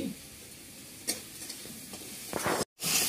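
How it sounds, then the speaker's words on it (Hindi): Onion, tomato and chili frying in a pan, a soft close sizzle with a few stirring clatters and a brief cut near the end before the sizzle resumes. "इधर प्याज और टमाटर और मिर्च मिलाकर भून रहे हैं हम लोग"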